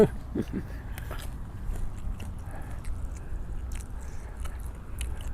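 Someone bites into crispy Thai pork belly (moo krob) close to the mic, with crunchy chewing and squishy mouth sounds that run on steadily without talk.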